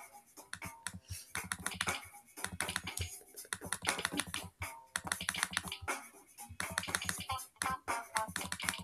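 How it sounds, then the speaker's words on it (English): Fast, irregular typing on a computer keyboard, a dense run of sharp key clicks with brief pauses, close and fairly loud. "Why am I so slow at freaking typing?"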